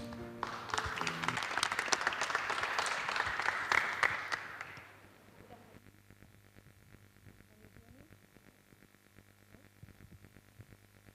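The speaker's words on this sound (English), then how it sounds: "So please receive Adriana with applause." Audience applause for a keynote lecture, a dense wash of clapping for about five seconds that stops abruptly, leaving a faint room hum with low background murmur.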